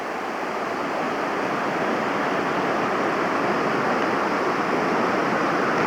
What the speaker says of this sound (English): spring that is gushing out of the hillside